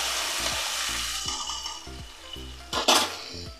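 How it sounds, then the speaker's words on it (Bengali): Spice paste for a mustard catla fish curry frying in a pan, giving a soft continuous sizzle with a few brief utensil clinks near the end. Background music plays under it. "মশলার পেস্ট দিয়ে দিচ্ছি"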